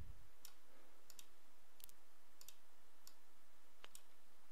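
A computer mouse button clicked sharply about seven times at irregular intervals, crisp and close over a faint, quiet room hum with no talking.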